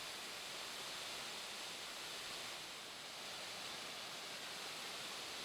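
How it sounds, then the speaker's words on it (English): Flowing water at a partly frozen waterfall at Clifty Falls State Park in Madison, Indiana, cascading into an icy pool, heard as a steady, faint broadband rush with no other sounds. "The sound of flowing water is a treat to the senses."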